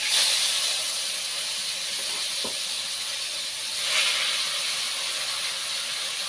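Ground chili paste for asam pedas sizzles steadily in hot oil, a continuous hissing fry with a brief swell midway, heard alone without talk.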